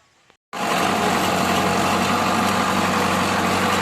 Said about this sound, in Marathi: खाली पोकलेन चाललंय